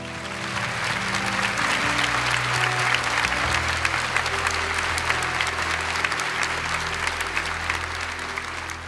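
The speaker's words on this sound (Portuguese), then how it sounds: "Aplauda a sua fé." Church congregation clapping during a Catholic worship service, a sustained, dense burst of applause from many people, loud and even, with a low organ or keyboard tone holding underneath.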